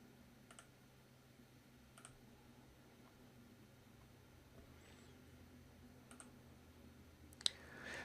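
Sharp computer mouse clicks, about four or five spread irregularly over a quiet room hum, faint and close, with one louder click near the end.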